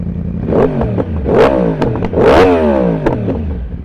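The aftermarket exhaust of a 2016 Yamaha R1S sport motorcycle revs up and down three times in quick bursts, each rising sharply in pitch, then falls back to a burbling idle, loud and close.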